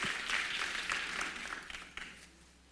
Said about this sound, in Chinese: 请各位现场嘉宾为我们讲师带来热烈的掌声鼓励